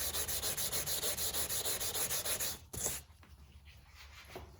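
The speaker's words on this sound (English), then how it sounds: "The wet sanding really allows for good lubrication, keeps the sanding paper somewhat clean." Wet sandpaper rubs a car hood in quick, even back-and-forth strokes, loud and close for a couple of seconds, then the rhythm breaks off into softer, scattered scraping.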